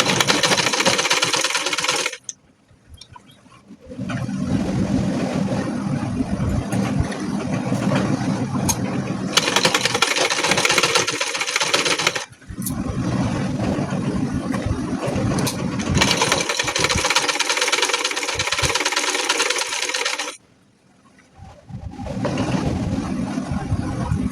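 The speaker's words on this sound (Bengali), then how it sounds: "সেলাইটা আস্তে আস্তে আমরা দিয়ে নেব" An electric sewing machine stitches a Modhubala blouse in three long, steady motor runs separated by short pauses, close and loud, with no talking.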